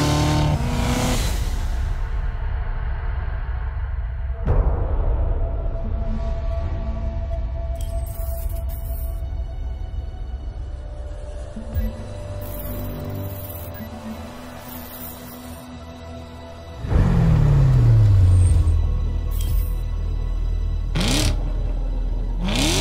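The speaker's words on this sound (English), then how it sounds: "Now, speaking of Oliver Gavin, Chevrolet used him and the Corvette Z06 just to promote the capabilities of the car and show off" A Chevrolet Corvette Z06 race car engine in a TV commercial revs and whirs, the sound swelling and fading over about twenty seconds and surging loudest near the end.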